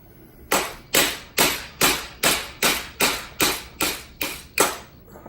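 A hammer tapping copper tubing in a steady rhythm while swaging bullet jackets, ten crisp evenly spaced blows, close and moderately loud.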